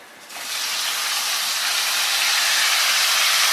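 Tomatoes hit a hot pan with a sudden loud sizzle that swells into a steady, bright hiss and keeps going, no voices, while Maggi noodles are being cooked.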